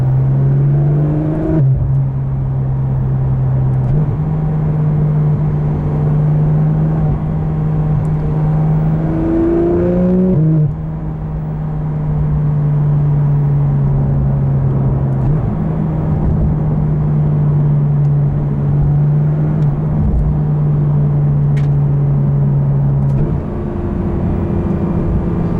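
A 2019 Porsche GT3 RS with an IPE exhaust and crackle tune, driving with a loud sustained engine drone heard from inside, pitch rising and dropping through several gear changes.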